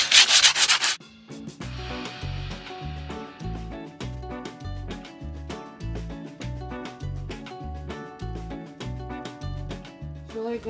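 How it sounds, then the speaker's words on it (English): Rhythmic back-and-forth rubbing of sandpaper on wood, steady strokes repeating close by after a brief loud burst at the start. "So he's just sanding all the bits I messed up."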